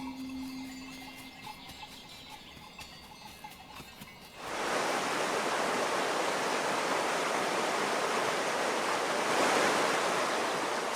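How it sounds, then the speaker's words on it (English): Mountain meltwater rushing down alpine slopes in spring: a broad, steady roar of water that starts abruptly partway through and stays loud and continuous, nearby and alone without voices. "Water rushes down the mountainsides."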